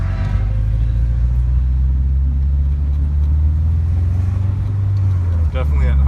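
A Subaru Impreza 2.5RS GC8 engine and exhaust at higher RPMs, heard from inside the car as a loud, steady low drone and rumble with road noise, while a voice speaks over it.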